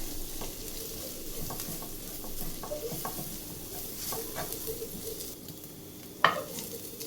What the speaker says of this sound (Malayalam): ഈ പൊടികളൊക്കെ ഒന്ന് നമുക്ക് വഴറ്റിയെടുക്കാം ഉള്ളിയുടെ കൂടെ തന്നെ.